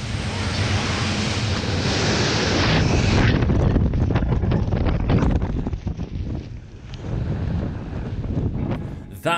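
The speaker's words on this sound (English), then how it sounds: "That was the sound of an RAF Falcons parachute display team member pulling their ripcord and" An RAF Falcons parachute display team member pulls the ripcord and glides through the sky, heard as a loud roar of rushing wind buffeting the microphone that eases into gusty, fluttering air.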